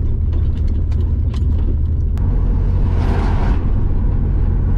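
A Holden car drives over a corrugated dirt road, its steady loud low rumble and drone continuous throughout, with scattered rattles and knocks from the body and a brief rushing swell near the end.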